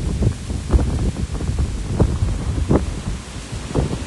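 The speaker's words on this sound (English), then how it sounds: "the state of this wind is actually alarming me for midsummer" Strong midsummer wind gusting outdoors and buffeting the microphone in a low, rumbling roar, with irregular surges and thumps swelling and easing over a few seconds.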